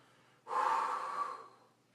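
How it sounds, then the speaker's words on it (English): One deep, long breath, a drawn-out airy rush lasting about a second, taken during a fat-loss breathing exercise that fills the diaphragm. It is close to the microphone and alone. "You're going to exhale, take a deep breath, feel the air fill in your diaphragm."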